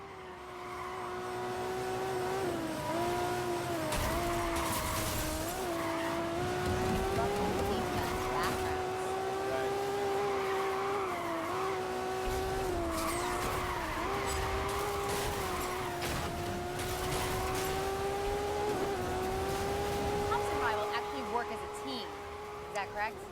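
Racing engines and squealing tyres from the video game Need for Speed Rivals on PS4 run steadily throughout, with revving engine tones rising and falling under occasional talk.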